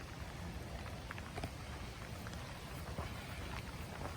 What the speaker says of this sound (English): And obviously it's still raining.